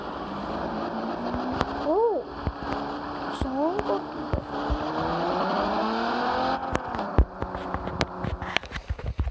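A car engine starts and revs with rising and falling whines, then the car pulls away, with sharp knocks and clatter scattered throughout.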